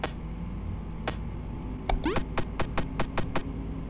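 Knocking on a door in the horror game Dreader: one lone knock, then a rapid burst of sharp raps falling into a quick, even pattern, loud and close against a low droning hum.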